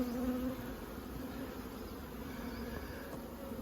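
Honey bees drone steadily around an open beehive as a frame is lifted out, a dense low buzzing swarm close by, continuous and fairly quiet with no talking.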